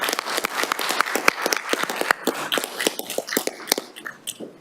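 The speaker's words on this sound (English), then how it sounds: "Can we have a nice round of applause for this group?" Town council meeting audience giving a short round of applause, a cluster of near, crisp hand claps that loosens into uneven scattered claps before fading out.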